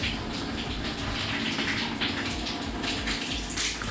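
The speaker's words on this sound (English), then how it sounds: "So that's the shower running." A shower running at full flow during a plumbing check of the shower trap, a steady broadband rush of water that stays constant throughout, with no voices over it.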